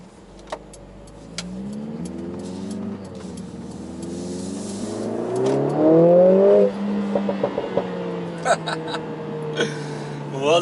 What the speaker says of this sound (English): this is the best sounding 2-liter 4-cylinder engine I have ever heard